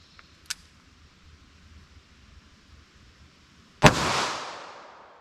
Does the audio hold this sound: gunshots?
yes